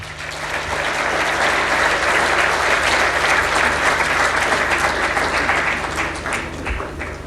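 A conference audience at the Devolution Conference in Kenya claps after a speech, producing a full, even wash of applause from many hands that holds steady throughout and eases off slightly at the close.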